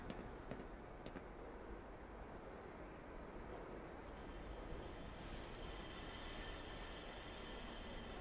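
A Black Mesa transit tram ride in the Black Mesa video game: a steady, close rail rumble rolls on without a break, with faint metallic squeals and hiss above it.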